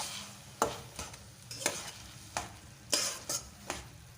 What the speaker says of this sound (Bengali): ভালো করে চিনিটা শাকের সাথে মিশিয়ে নিতে হবে।